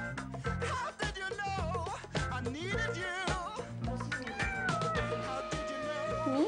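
A Persian cat meows and yowls continuously, close and loud, with long wavering cries and short chirps running into each other without a break.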